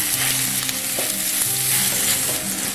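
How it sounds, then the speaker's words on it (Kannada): Chopped tomatoes and onion fry in a pan with salt, sizzling steadily while a spoon stirs and scrapes through them in repeated strokes, close and alone without any voices. "ಸ್ವಲ್ಪ ಉಪ್ಪು ಹಾಕಿ ಫ್ರೈ ಮಾಡೋದ್ರಿಂದ ಬೇಗ ಟೊಮೆಟೊ ಫ್ರೈ ಆಗುತ್ತೆ"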